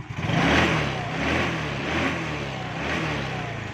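A motorcycle engine with a diaphragm carburetor and its airbox refitted revs in repeated throttle blips, the engine note rising and falling in waves, loud and close with no talk.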